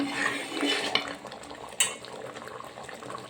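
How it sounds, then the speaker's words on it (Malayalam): Coconut milk goes into a pan of wheat ada payasam with jaggery; moderate clattering of a spoon against the pot, a couple of sharp metallic knocks, and soft liquid stirring sounds, no talking. "ഇനി നമുക്ക് ഇതിലേക്ക് തേങ്ങാപ്പാൽ ഒഴിച്ചു കൊടുക്കാം"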